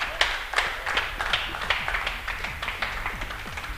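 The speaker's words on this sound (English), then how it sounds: "give Dave Hedges a round of applause" Scattered handclaps and light applause from a small crowd at a motor racing prize-giving at Thruxton, steady and fairly close, with a few sharper individual claps standing out.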